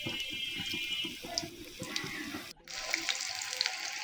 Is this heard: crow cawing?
no